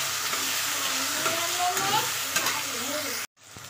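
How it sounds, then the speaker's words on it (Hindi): Onion, green chili and tomato frying in a pan for a pasta dish, a loud, steady close sizzle with scraping stirs, then an abrupt cut to near silence and a quieter sizzle at the end. "अभी इसको अच्छे से भून लेंगे।"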